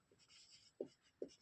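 Pen or chalk writing during a Hindi physics lesson on light, with a soft faint scratch followed by two short louder strokes, close and quiet, with no talking.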